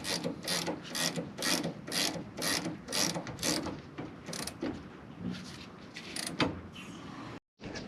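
A hand ratchet clicks in quick, regular bursts while tightening suspension bolts on a 1968 VW Beetle being lowered, close and fairly loud, with a brief silent gap near the end.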